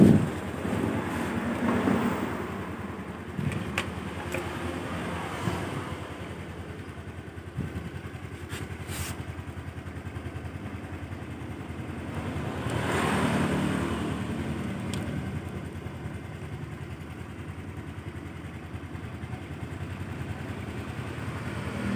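A carbureted Honda Vario scooter engine idles steadily throughout, a low continuous rumble with some wind buffeting on the microphone and a few brief clicks.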